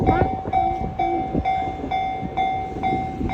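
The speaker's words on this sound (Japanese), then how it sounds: "電車来たで。" At a railroad crossing, the warning bell dings in a quick, steady rhythm while a train rumbles in underneath, moderately close.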